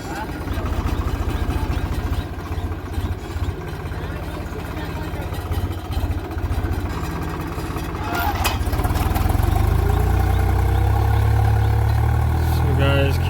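A tractor engine drones steadily nearby as it works a farm field, building raised ridges for sowing, its low rumble growing heavier and louder toward the end.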